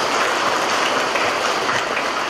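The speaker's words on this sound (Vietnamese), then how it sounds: "Một tràng pháo tay thật lớn để tạ ơn Chúa cho anh chị em." A church congregation at a baptism Mass claps together in a steady, even roar of many hands, unbroken and fairly loud from start to finish.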